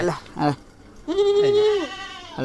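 A dairy goat bleats loudly and close by, a long wavering call after a couple of shorter ones.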